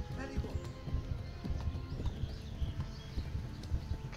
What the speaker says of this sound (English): I am riding a horse.